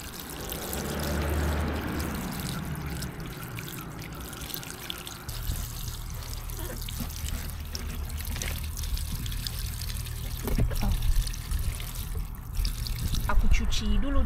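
Water pours and splashes steadily while freshly harvested pumpkins and garden vegetables caked with sticky soil are washed outdoors, with occasional clunks as they are handled.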